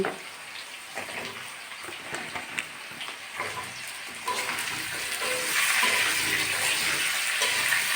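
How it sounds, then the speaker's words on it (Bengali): Cut flat beans go into a pan of potatoes already frying for a Bengali vegetarian chorchori, and the sizzle swells and holds steady over clinking stirs, close and fairly loud. "আলুগুলো আমি কিছুক্ষণ ধরে ভেজে নিয়েছি বন্ধুরা এবার কেটে রাখা সিমগুলো দিয়ে দিচ্ছি"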